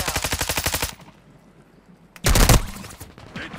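Gunfire in Call of Duty: Modern Warfare II, a rapid automatic burst of evenly spaced shots followed after a pause by a heavy explosive blast and lighter trailing shots, loud and close.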